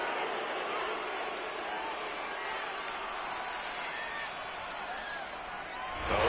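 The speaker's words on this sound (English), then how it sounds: "Oh, this crowd does not like that call." A stadium crowd in a PS4 American football game roars steadily after a penalty call, a broad, distant wash of noise that swells slightly at the end.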